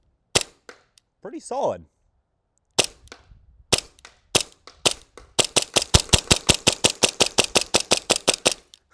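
Airsoft gun firing, a few sharp separate cracks at first, then a fast steady string of close, loud snapping shots; a voice speaks briefly between early shots.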